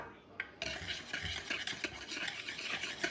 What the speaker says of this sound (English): just whisk those dry ingredients together